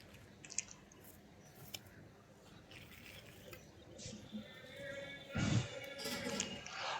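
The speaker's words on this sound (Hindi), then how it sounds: "ये देखिए, मैं गमले के चारों ओर अब मिट्टी को फैला रहा हूँ, ताकि जो खाली स्पेस है वो भर जाए।" Soil pressed and spread by hand around a pot while repotting a Madhu Kamini plant: faint, crumbly rustling and scratching, building to a louder gritty scrape near the end, with no talking.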